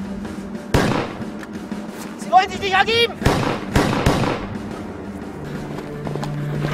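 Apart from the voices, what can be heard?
several gunshots in a radio drama battle scene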